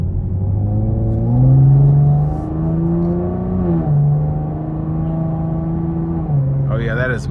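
2023 Chevrolet Camaro 2LT RS V6 in sport mode, its engine droning and revving up and down through gears from inside the cabin, a steady loud tonal hum that rises and falls, with a brief voice near the end.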